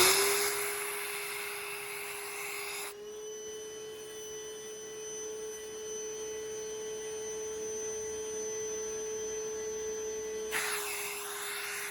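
A Milwaukee Dual M18 vacuum runs steadily with a constant high tonal whine, switching partway through to a second, differently pitched setting before returning, moderately loud and alone.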